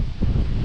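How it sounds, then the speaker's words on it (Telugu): Strong wind buffeting a microphone during an off-road motorcycle ride, a dense low rumble that surges and fills the whole moment without pause. "బ్రో ఈ విండ్ అయితే నన్ను కంప్లీట్ తోసేస్తుంది."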